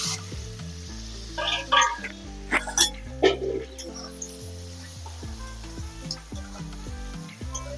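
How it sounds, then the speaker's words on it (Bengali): Potatoes fry in mustard oil with salt and turmeric, giving a continuous sizzle with stirring clatter and a few sharp taps, while a soft tonal background hum runs underneath. "আলুটাকে ভেজে নেব।"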